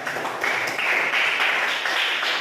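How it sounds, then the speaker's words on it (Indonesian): Students in a high-school class applaud a classmate named Ramdhania, a short burst of steady clapping from a small group in a room. "tepuk tangan untuk Ramdhania"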